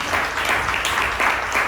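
A church congregation claps in unison for a short burst of loud, dense applause, with faint background voices underneath.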